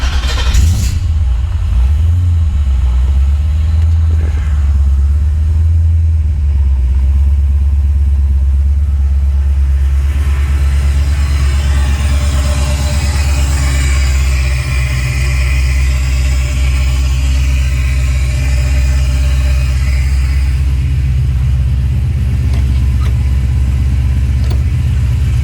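An LS-swapped engine on a Holley Terminator X base tune cranks and fires, then settles into a loud, steady idle with a deep low rumble that swells slightly partway through, close by with no talking.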